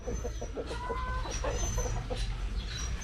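Hens clucking steadily near a coop where one is laying an egg, a busy farmyard with soft repeated clucks and a few higher calls over a constant low background hum.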